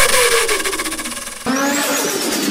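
A voice imitates a turbo blow-off flutter on a car, a rapid fluttering stutter that rises and then drops into a second burst. The sound is loud and close with no other noise.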